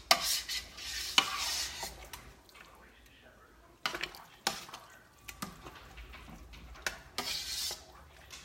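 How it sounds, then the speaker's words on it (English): A spoon stirring a large pot of thick chili with oregano, close scraping and swishing strokes coming in irregular bursts with soft clinks against the pot. "So I'm gonna get that all stirred in."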